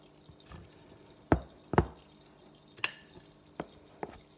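Strawberries being chopped on a board for rolled ice cream, a few sharp separate knife knocks at an uneven pace over a quiet, faintly hissing background.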